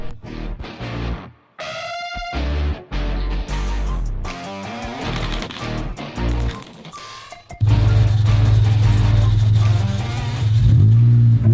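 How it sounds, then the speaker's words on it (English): A BMW engine cranks and sputters on a cold start, then settles into a loud, rough rumbling idle with uneven tones, heard up close, with the car left half in gear. "I hear a strange noise under the hood"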